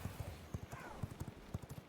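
Horse hooves gallop in the video game V Rising, a quick irregular clip-clop of soft thuds, several beats in two seconds, faint and close with a low game ambience behind.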